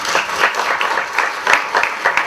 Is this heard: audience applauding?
yes